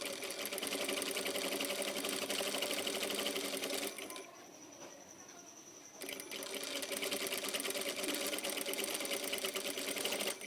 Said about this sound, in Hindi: मैं बिल्कुल 1 बूट की सिलाई लगा रहा हूँ, थोड़ा कम, बिल्कुल चिपका के।